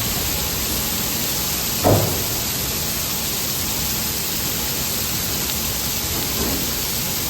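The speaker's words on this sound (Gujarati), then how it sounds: "ફૂલ વરસાદ અત્યારે પડી રહ્યો છે" Heavy unseasonal winter rain pours down in Morbi, a dense, steady close-up hiss with no gaps, with one brief thump partway through.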